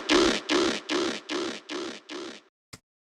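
Dubstep bass with an automated delay effect: six evenly spaced, punchy bass hits repeating about twice per second and shrinking slightly, then one faint short click after a gap, alone with no talking.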